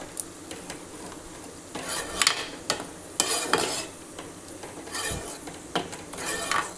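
A spoon scrapes and clinks against a pan while fenugreek-leaf vegetable curry is mixed, irregular stirring strokes with sharp metallic knocks over a soft background sizzle, close and without talk.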